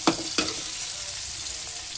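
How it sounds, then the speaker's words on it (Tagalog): Pechay (bok choy) sautéing in a hot pan makes a steady, close sizzle, with a couple of brief stirring clatters near the start. "Ginisang pechay yan guys."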